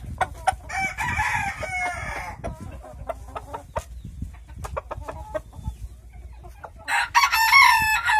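A blue Polish rooster clucks in short bursts at close range, then lets out a loud crow near the end.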